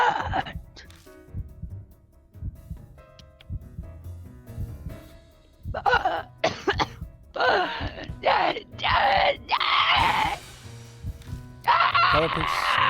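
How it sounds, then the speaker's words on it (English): Color Peach, a character in the video game Spirit Hunter: NG, screams in crazed rage in a string of loud, harsh, wailing bursts that build over the second half, with quieter moaning and game sounds before them. "Color Peach screams in crazed rage, and she chops my head off."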